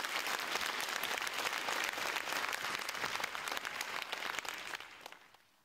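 Applause from the audience at a school holiday concert, sustained dense clapping for several seconds that thins and fades out at the end.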